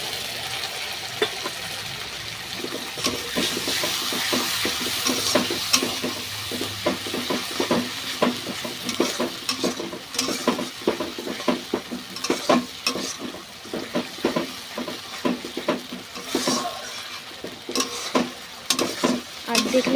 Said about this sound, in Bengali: এখন আমি মশলাটা দিয়ে দেবো